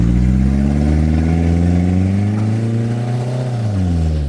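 A homemade motorcycle fitted with a Toyota Camry engine pulls away, its loud, close engine tone climbing steadily in pitch as it accelerates, then dropping off at the end.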